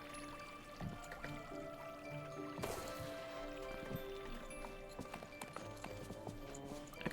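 Hooves clip-clop in a steady trot from a horse in the video game Disney Dreamlight Valley, heard over a busy, constant game music and ambience bed at moderate loudness.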